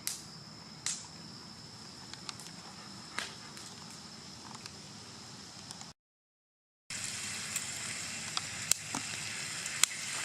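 Bacon sizzles and crackles steadily over a campfire outdoors in wet weather, a bright continuous hiss with scattered pops, broken by a brief silent gap before the frying resumes louder.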